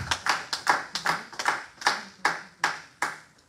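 Hands clap in a church, about a dozen sharp, reverberant claps in a loose steady rhythm, close and clear with brief echoing tails and no talking over them.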